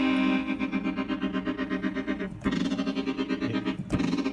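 Ring modulator effect on a vintage Yamaha synthesizer, producing a dense, metallic, harmonically rich tone with wobbling overtones, sustained and loud, with two brief dropouts before resuming.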